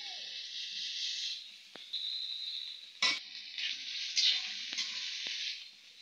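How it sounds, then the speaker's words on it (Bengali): Grated garlic frying with browned onion in a pan for a village-style fish curry: a soft hiss and sizzle with a few sharp utensil taps and scrapes, fairly quiet and close, no talking. "রসুন পেঁয়াজ ভালো তো ভাজা হয়ে গিয়েছে"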